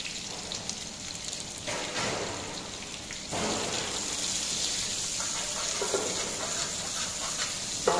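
Sliced onion softens in a pan for paneer lababdar, making a soft, rain-like hiss that swells slightly partway through and then holds steady.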